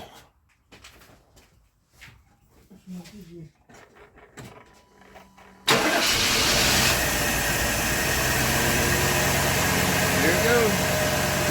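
A truck's engine cranks and catches, then idles loudly and steadily at close range, with a rough, constant rumble after brief talk and quiet shop noises.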